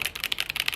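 Mechanical keyboard switches clicking in a fast, irregular run of sharp keystrokes, close and fairly loud, with no talk over them.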